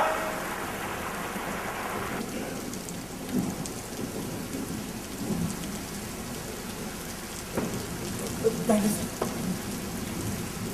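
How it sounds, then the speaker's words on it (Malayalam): Heavy rain pours steadily with low rolls of thunder rumbling underneath and a few sharper cracks toward the end. "എന്തൊരു മഴയാ"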